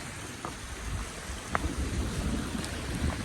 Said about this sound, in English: Thunder is all around.